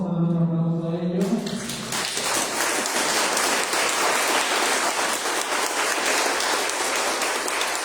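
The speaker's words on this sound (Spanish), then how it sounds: "Vamos a dar un aplauso a ellos." Sustained applause from a church congregation at Sunday Mass, loud and steady throughout after a brief moment of voice at the start, filling the room like heavy rain.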